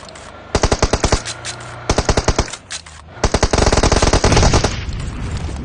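Gunfire in PUBG Mobile: three loud rapid bursts of automatic fire with brief pauses between them, the last longer and denser, trailing into fainter background noise.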